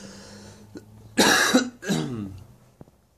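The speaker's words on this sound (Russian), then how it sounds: "сейчас кашляю" A person coughs twice in quick succession, harsh and close, followed by a faint throat click.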